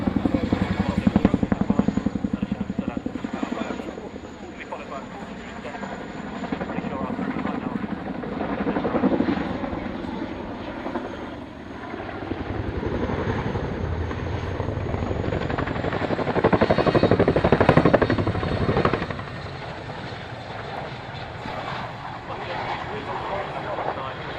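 A Chinook helicopter at an airshow gives a steady, loud rotor drone that swells and fades as it passes, with voices talking over it.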